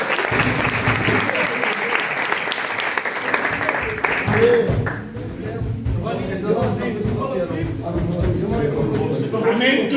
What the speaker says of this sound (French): Nous applaudissons le Seigneur.